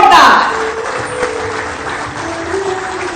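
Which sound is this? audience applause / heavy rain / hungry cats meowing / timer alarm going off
audience applause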